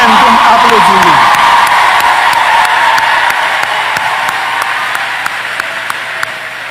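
A crowd applauds at a graduation ceremony, steady loud clapping that slowly fades, with a voice speaking over it at the start.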